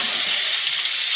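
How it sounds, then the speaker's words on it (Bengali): Potatoes frying in oil in a kadai, a steady close hiss and sizzle that holds evenly throughout with no voices. "একটু ভেজে নেব আলুগুলোকে।"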